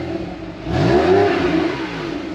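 A Porsche 911 Targa 4S (997.2) engine, 285 horsepower, revs up sharply, its pitch climbing then falling back in a single loud, close burst before settling to idle.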